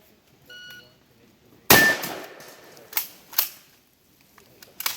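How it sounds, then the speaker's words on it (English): Gunfire rings out at a 3-gun shoot, one sharp loud shot followed by a few quicker reports, likely shots hitting steel targets through a hole in a wall. "moving up and shooting the steel targets through the hole in the wall"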